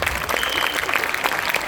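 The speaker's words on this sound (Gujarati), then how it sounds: "તાળીઓ પાડો મિત્રો." An audience at a school annual function applauds, a dense burst of many hands clapping briefly and steadily at close range.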